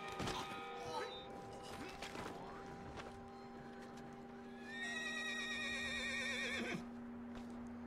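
In the video game Red Dead Redemption 2, a horse gives a long, wavering whinny near the end, after scattered thuds and clatter over a steady background tone.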